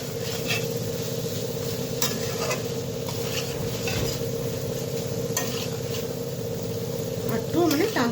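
A utensil stirs a thickening taro stolon curry with jackfruit seeds in a pan, making repeated scrapes and clinks over a low, steady sizzle, with a brief voice near the end.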